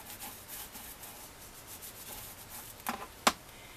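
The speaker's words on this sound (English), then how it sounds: "I want to burnish that really good" Steady soft rubbing of a tool burnishing a paper craft page, a continuous dry scratchy friction close up, ending with a couple of sharper scrapes or taps.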